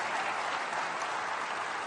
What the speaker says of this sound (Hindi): आपकी तालियां बजनी चाहिए